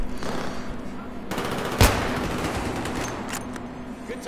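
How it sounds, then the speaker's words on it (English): Gunfire in the military shooter Battlefield 3, a rattling machine-gun exchange with one sharp, loud shot standing out near the middle, over a constant low hum and distant battlefield noise. "Where are they all firing?"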